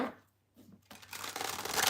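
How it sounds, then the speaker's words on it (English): A tarot card deck is shuffled close up, a brief rustle and then a rising riffling flutter of cards, with no talking. "last deck to shuffle"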